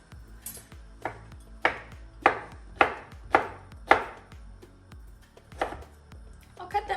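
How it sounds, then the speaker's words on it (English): Knife chopping chilled, bright green, tender-crisp thick asparagus into small pieces on a board, with about eight sharp, evenly spaced chops close up and a brief clatter at the end. "Let me go get those and chop those up"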